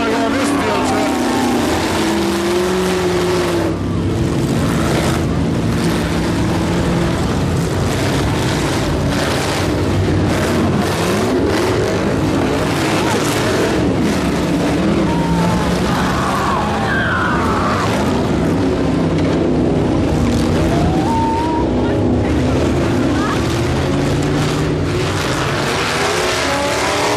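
Short school buses smash and grind through a demolition derby, loud engines revving and roaring continuously with skids and crunching impacts, under faint crowd noise and occasional talk.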